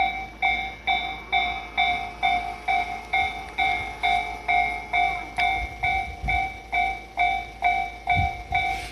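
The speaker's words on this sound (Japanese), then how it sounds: "電車が行って踏切が鳴り終わったかと思ったら、また踏切がすぐ鳴り出してもう閉まっちゃいますね" A Tobu railway level-crossing bell in Kasukabe rings in a steady, regular rhythm of about two strikes per second, loud and close, with faint train noise and brief low thumps toward the end.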